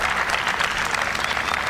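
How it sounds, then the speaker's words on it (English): Steady crowd noise rising into applause and cheering from spectators at the WTA 125 Mumbai Open women's tennis tournament, a dense continuous wash of clapping with no talk over it. "You can hear the crowd roar"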